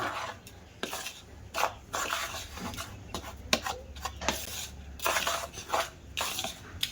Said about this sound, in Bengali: তো শুকনো উপকরণগুলো ভালো করে মিশিয়ে নিয়েছি